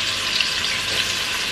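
Onions frying in a pan at home, a steady broadband sizzle and hiss holding at an even level throughout, with no talk over it.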